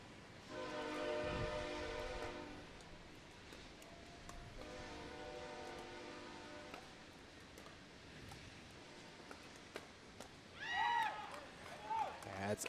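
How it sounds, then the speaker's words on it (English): A passing train near an outdoor pickleball court in Daytona Beach sounds two long, steady horn blasts from a distance over a constant rumble, followed by faint court sounds and voices. "Play pause as we have a train that comes by."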